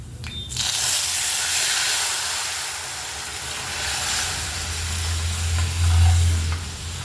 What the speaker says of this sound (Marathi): हिंग तडतडल्याच्या नंतर जिरी टाकून घ्यायची जिरी तडतडली की सूप टाकून घ्यायचं